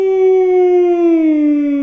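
A loud, steady siren wails before the dawn prayer during Ramadan, a sustained tone that slowly slides lower in pitch, heard up close with no other sounds.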